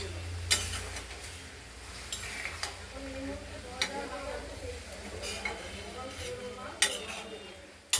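A thick banana flower curry with potatoes, peanuts and ground spice paste is slowly stir-fried. A low sizzle sits under scattered metal spoon scrapes and clicks against the pan, fairly quiet and close, with a voice talking faintly at times.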